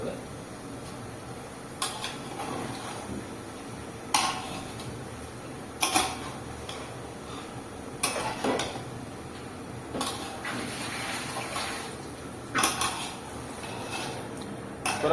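A spoon stirs a pot of Gujarati eggplant and potato curry, clanking against the metal every couple of seconds over a soft simmer, with voices talking nearby.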